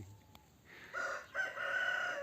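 A young, heavyset rooster in a backyard coop crows once, the call rising in two close bursts, fairly near and alone with no voices over it.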